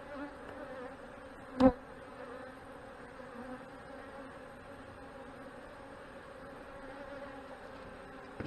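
Honey bees buzz around an open hive during an inspection, a soft continuous drone with one bee passing close and loud for a moment.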